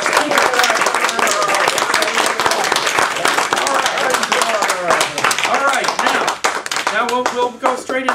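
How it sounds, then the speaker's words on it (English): Audience applause for speakers at a Catholic lecture event, dense steady clapping that fills the room, with voices mixed in toward the end. "let's have another warm round of applause for our speakers"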